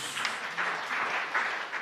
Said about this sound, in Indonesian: Yang percaya tepuk tangan yang meriah bagi Tuhan Yesus.